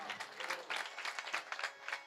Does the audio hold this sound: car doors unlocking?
no